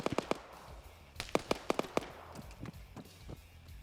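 Smoke grenade launchers fire in a Battlefield 6 themed 120-player PvP match, a scattered run of sharp, punchy pops and thumps, some close and loud, others softer and more distant.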